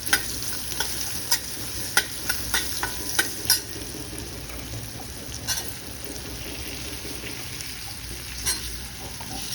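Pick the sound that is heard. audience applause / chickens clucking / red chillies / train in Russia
red chillies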